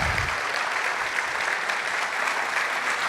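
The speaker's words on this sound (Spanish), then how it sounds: "quiero que por favor recibamos con un fuerte aplauso a nuestro pastor de finanzas" An audience in a church gathering applauds a finance pastor, dense steady clapping from a large crowd filling the whole moment at moderate distance.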